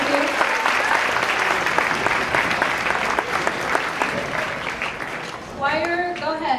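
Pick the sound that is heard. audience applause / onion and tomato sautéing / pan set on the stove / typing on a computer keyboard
audience applause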